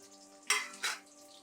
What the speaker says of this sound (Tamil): கடுகு வெடிக்கட்டும்